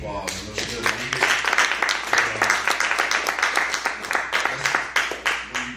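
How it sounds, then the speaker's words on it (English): An audience gives a mother a round of applause: a dense, steady wash of many hands clapping that swells and then fades over several seconds, with no voices over it. "I think y'all should give this mother another round of applause"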